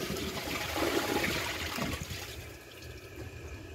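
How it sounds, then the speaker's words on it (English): A 1-gallon Glacier Bay high-efficiency toilet flushes with a loud rush of water that swirls and then tapers into a quieter trickle as the bowl refills, heard alone and close up. "So I'm gonna try flushing it again."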